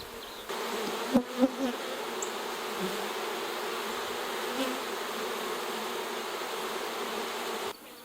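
Honey bees hum steadily around a newly installed nuc hive on a farm, a close, continuous buzzing drone with a couple of brief knocks early on.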